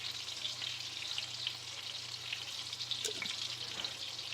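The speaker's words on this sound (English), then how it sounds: "I'm just gonna mix that all together" Chicken and canned Alfredo sauce being stirred together in a pan, giving a steady, soft sizzle with faint scraping of a utensil, close and continuous with no talking.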